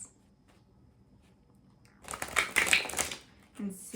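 A tarot card deck being shuffled, a burst of riffling, crackling card noise arriving after a quiet start and a short word, then continuing in bursts with a voice near the end.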